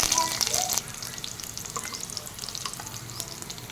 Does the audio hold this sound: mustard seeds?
yes